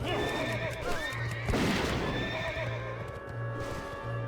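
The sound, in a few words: horse neighing in World of Warcraft Cataclysm video game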